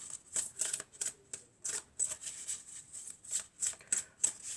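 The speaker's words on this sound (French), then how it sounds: "on va prendre quelques cartes de mon oracle" Oracle cards being shuffled by hand during a French tarot-style reading, a run of quick crisp riffling bursts in an irregular rhythm, close and fairly quiet, with no voices.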